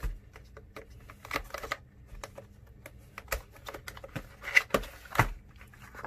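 Cardboard packaging of a budget RGB mechanical keyboard being opened, with soft, close rustles, taps and scrapes scattered irregularly, a few sharper clicks standing out, all quiet with no talking.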